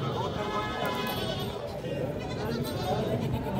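A goat being bought bleats a few times amid steady talking and background chatter, its calls fairly close but partly buried under the voices.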